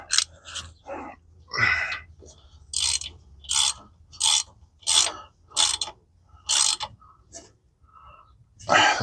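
Ratchet wrench clicking on a 10 mm bolt while refitting a rear strut on a 2008 Toyota Highlander: a series of about ten short, evenly spaced bursts of ratcheting, close and fairly loud, with no talking.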